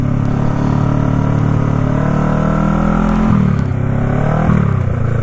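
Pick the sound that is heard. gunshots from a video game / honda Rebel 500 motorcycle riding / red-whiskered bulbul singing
honda Rebel 500 motorcycle riding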